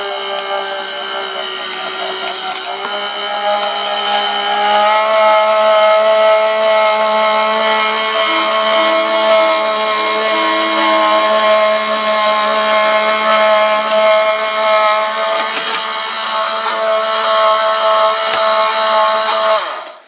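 A Gemini electric die-cutting and embossing machine runs with a steady motorised hum and whine, close and constant for about twenty seconds before stopping abruptly, no talking over it.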